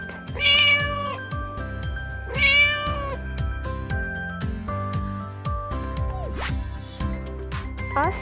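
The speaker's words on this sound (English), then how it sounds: "Cat." A domestic cat meows twice in drawn-out, rising and falling cries, heard clearly over bright, bouncy background music, with a few softer chirps afterwards.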